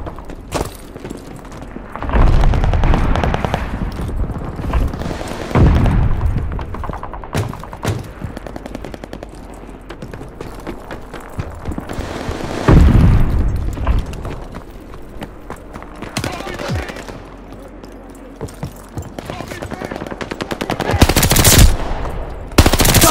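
Bursts of M1A1 Thompson (M1928) submachine gun fire in Call of Duty Vanguard beta gameplay on PS5, rapid rattling volleys separated by pauses, loud and close with footsteps and scattered shots between.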